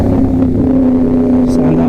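A big bike motorcycle on the Marilaque mountain road gives a loud, close, steady engine drone that holds for the whole short moment.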